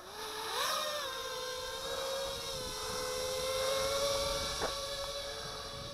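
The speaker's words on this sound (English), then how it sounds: "So arming the motors, we should be good to go. Let's take to the air." Walkera Furious 215 FPV racing drone lifts off and flies, its motors a steady high-pitched whine that bends up and down with throttle changes, close and loud, with no talk.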